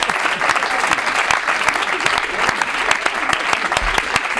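Studio audience at a Spanish comedy show breaks into sustained, dense applause, steady and loud throughout with no voices on top.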